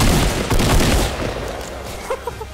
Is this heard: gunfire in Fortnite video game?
yes